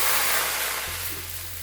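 Khali dosa batter, two ladlefuls, sizzles steadily on a hot griddle with a continuous close hiss, and a low hum runs beneath it.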